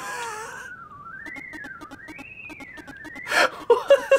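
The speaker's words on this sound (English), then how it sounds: "the little whistling thing in the background is like freaking me out" In PAC-MAN built in Game Builder Garage, a thin electronic whistle glides up and down in a wavering siren-like loop, steady and clear, with brief bursty game effects and a voice breaking in toward the end.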